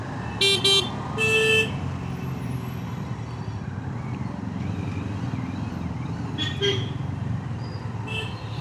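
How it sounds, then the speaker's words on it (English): Horn of a Kawasaki Z900 motorcycle, a thin scooter-like beep, sounding in two short bursts near the start and again briefly later, over steady road and engine noise. "one thing I'm not happy about is this horn. What is this? Feels like a scooty horn."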